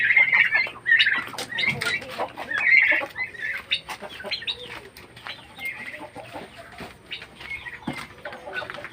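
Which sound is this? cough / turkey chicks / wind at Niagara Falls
turkey chicks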